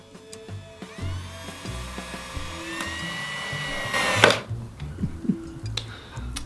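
A power driver runs an exterior screw into pallet wood at a planter box corner, a steady whining spin for several seconds that rises in pitch, then stops. Scattered clicks and handling knocks follow.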